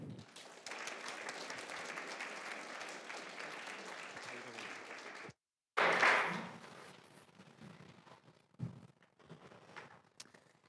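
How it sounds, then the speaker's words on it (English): An audience at a business tech event applauds two presenters with a steady round of clapping that cuts off abruptly, then resumes briefly in a louder burst before fading into scattered claps and room noise. "please all give a round of applause"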